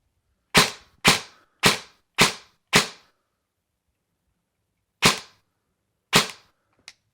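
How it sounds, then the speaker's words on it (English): Airsoft DSG gun fired in a quick test: five sharp, loud shots in a steady rhythm, a pause, then two more spaced shots and a faint final click, with no talking. "here's a quick fire test"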